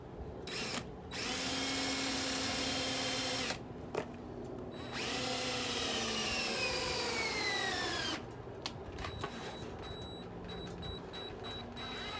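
A battery drill bores a countersunk screw hole in a giant baseball glove trophy sculpture. A loud, close whine sounds in a few sustained runs, with the pitch shifting as the motor slows, separated by brief pauses.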